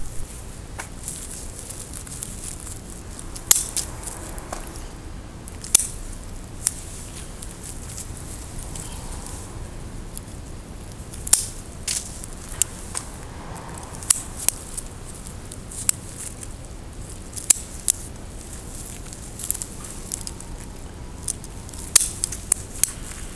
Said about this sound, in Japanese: 要所要所にハサミを入れます。